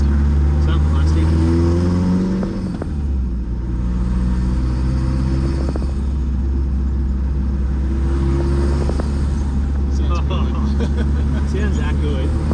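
An LN106 Toyota Hilux with a newly fitted cylinder head drones along while driving, a low steady engine rumble heard from inside the cab, with a brief rev change early on and voices talking over it throughout.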